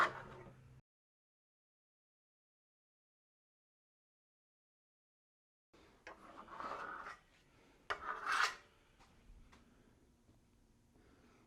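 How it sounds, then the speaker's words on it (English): A steel trowel pressed hard across drying Venetian plaster, smoothing down ridges, gives soft rasping, rubbing strokes after a long stretch of silence, with a few louder scrapes near the end. "we're going to start smoothing this down, pushing it down with a lot of pressure to the back of the trowel"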